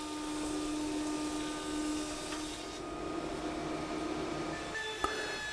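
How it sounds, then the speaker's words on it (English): Thickness planer running as wooden tops for an Art Deco jewelry box are fed through, a steady droning whine holding at moderate level with a small knock near the end. "Putting it through the thickness there again, planing it down."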